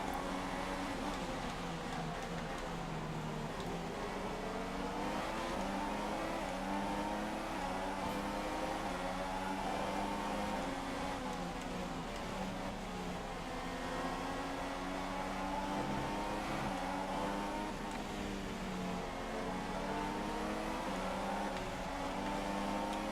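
Open-wheel Formula 1 cars race at the Austrian circuit in the F1 2016 video game, engines droning steadily and loudly with rising and falling pitch as cars run close together, with no break for the whole stretch.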